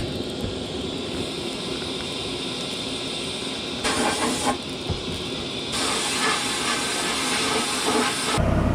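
Sandblasting goes on nearby during work on a 1973 Monte Carlo, a steady loud broadband hiss that runs throughout, with bursts of stronger blasting toward the end.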